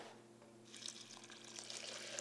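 Tap water pours steadily into a blender, a soft, faint rushing and splashing that swells after a quiet start and keeps running to the end.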